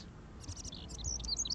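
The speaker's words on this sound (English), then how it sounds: "Can you help me get this bird out of here?" Several quick, high bird chirps in the game Life Is Strange, clustering in bursts over a low ambient hum; close and fairly clear, with no talking.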